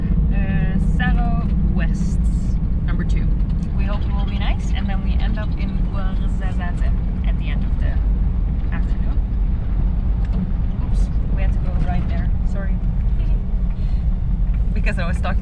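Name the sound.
car driving on a road in Morocco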